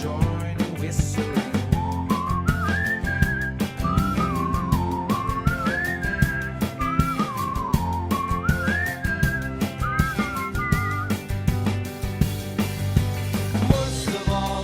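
Melodic whistling carries a tune over a steady rhythmic backing track with a deep bass line, clear and continuous throughout.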